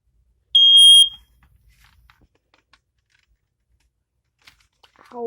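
Ionization smoke alarm under test gives one loud, shrill, high-pitched beep lasting about half a second, followed by near silence with a few faint clicks and handling noises.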